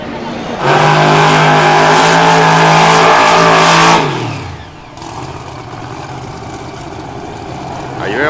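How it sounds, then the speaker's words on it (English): Wayne Roberts' Pro Modified Corvette launches on a drag strip at the World Street Nationals, a loud close engine blast lasting about three seconds before cutting off and fading, then lower crowd and ambient noise follow. "Wayne Roberts con este nuevo Corvette tipo Pro Modified, probando este vehículo aquí por primera vez en los World Street Nationals"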